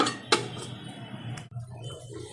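A lid is set onto a cooking pot holding jackfruit and potato pieces to be parboiled, giving a sharp metallic clink followed by a second softer knock, then quiet.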